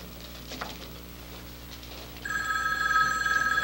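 A telephone bell begins ringing partway through, loud and steady with a bright electronic tone, after a quieter stretch of room noise, in a scene from the 1982 film Jimmy The Kid.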